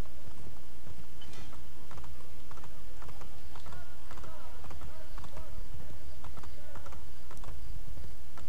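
Rhythmic clip-clopping of horse hooves in Assassin's Creed Brotherhood over a loud, dense background of game sounds, steady and continuous throughout.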